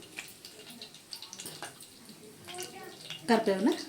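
Curry leaves dropped into hot oil already holding mustard seeds and cumin for a soya curry, giving a watery crackling sizzle that swells near the end, heard close under a talking voice.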